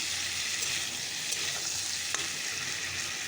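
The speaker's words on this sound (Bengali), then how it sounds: "তো চলো সবজিটা ভাজা ভাজা হতে থাক আর মশলাটা করে নিই" Vegetables frying in a pan, a steady close hiss of sizzling oil with a few sharp pops and stirring scrapes.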